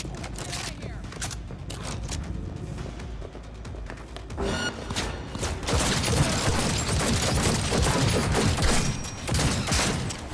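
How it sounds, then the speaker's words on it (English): Shots crack and boom in Cyberpunk 2077 combat, from a hard-hitting pistol amid a noisy firefight, loud and dense, with a voice talking over part of it. "his pistol is fucking crazy. It does so much damage."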